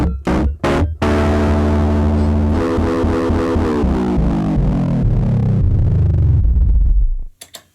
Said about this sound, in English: It's exactly what I want when I'm gonna play a solo or need that distorted Rhodes sound.